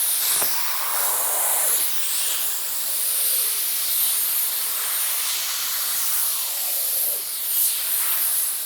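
Steady broadband hiss from a steamer held close while eight-year-old paint protection film is peeled off a BMW E92 M3, continuous with small swells and no talking.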